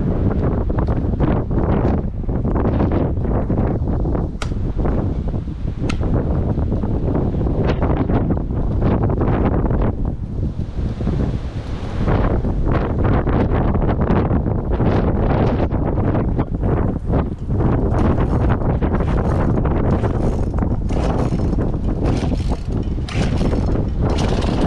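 A Poulan Predator chainsaw engine running steadily and loudly for the whole stretch, with a dense continuous drone and some wind noise on the microphone.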